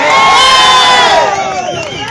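Large crowd of supporters cheering and shouting at a political rally, a loud, sustained roar of many voices that swells and then slowly eases over about two seconds.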